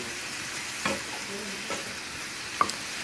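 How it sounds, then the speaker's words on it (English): Shrimp fry in a pan with a steady close sizzle, broken by a few soft scrapes and taps of stirring. "So I'm going to get these cooked up, and they're almost done."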